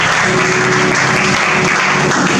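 A church congregation applauding loudly, a dense, steady wash of clapping from a crowd that fills the whole moment.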